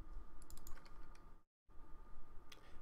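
Typing on a computer keyboard, a steady patter of quiet key clicks over a low hum, broken by a brief dead gap before the tapping resumes.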